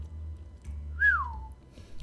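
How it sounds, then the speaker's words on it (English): A man gives a single short whistle that rises and then slides down in pitch, close and clear over a faint low hum. "he let out a whistle and said,"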